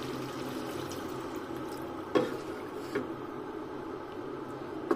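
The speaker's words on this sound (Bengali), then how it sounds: "এবার আমি ঝোলের জন্য একটু ঝোলের পানি দেবো।" Water is added to a tomato-based pabda fish curry in a pan, a soft, steady pour that runs under the clip with a couple of brief louder splashes or knocks.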